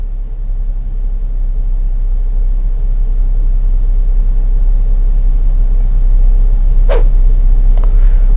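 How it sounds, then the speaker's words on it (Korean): A Kia Carnival (Sedona) gasoline engine idles, heard from inside the cabin as a steady low rumble and hum, even and unbroken, with a brief small click or tap near the end. "지금 가솔린 차량의 시동을 켠 상태입니다."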